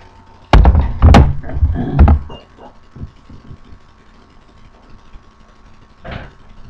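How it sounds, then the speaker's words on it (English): Several heavy wooden door thuds and knocks land in quick succession, followed by quieter scattered taps and one last dull bump. "The door slowly opened, and St. Nicholas, in full array, stood before them."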